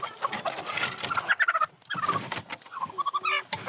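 A hen traded for a television at a Roma settlement gives a run of close, choppy clucks and gobbling calls, busy and irregular with brief pauses.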